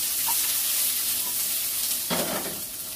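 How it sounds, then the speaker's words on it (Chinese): Onions stir-fried in a little oil in a pan sizzle with a steady, close hiss, and a spatula scrape stirs them near the end. "炒香啲洋葱先"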